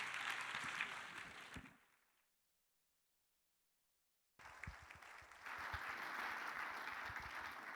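Audience applause at a climate action summit, a dense clapping that fades to full silence for a couple of seconds, then returns abruptly and swells louder.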